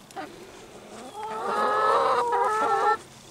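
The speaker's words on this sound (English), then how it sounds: "little chicken girls, you're just all noisy today" Several hens clucking and squawking nearby, their calls building into a noisy, overlapping chorus before cutting off abruptly.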